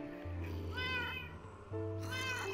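Two distinct meows from a cat in Minecraft: PlayStation 4 Edition, each a clear rising-then-falling cry separated by a short pause, near and moderately loud over a low background hum.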